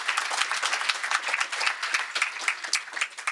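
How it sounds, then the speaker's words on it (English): A room of listeners applauds after a talk on mental health in Latina/o communities, giving steady, close, moderately loud clapping with a dense patter of many hands that continues throughout. "Round of applause."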